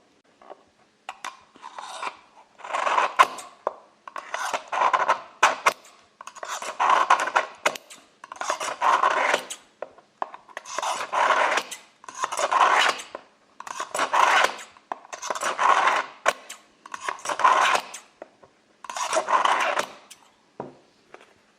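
Scissor blades are drawn repeatedly through a Pélican scissor sharpener, a close, regular series of about a dozen gritty rasping strokes, each lasting around a second, separated by short pauses.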